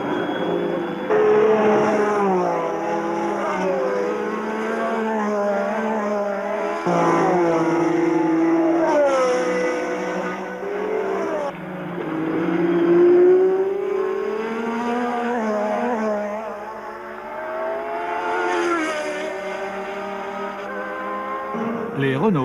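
1980 Formula One cars, Renault turbos among them, scream past at racing speed. Their engine notes rise and fall in long, sweeping pitches as they accelerate and shift, loud and continuous under a commentator's voice.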